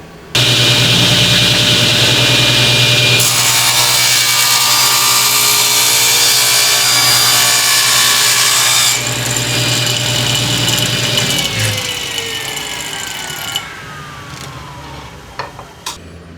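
A power saw cuts into a piece of white oak for a cabinet door repair, a loud whining buzz that jumps in pitch as the blade bites, then winds down and fades to a few light clatters.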